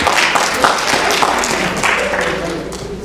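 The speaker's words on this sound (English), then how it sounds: "Give it up. Hand clap for appreciation." An audience at an entertainment show applauds in appreciation, a dense, steady wash of many hands clapping close by that holds for the whole moment with only slight swells.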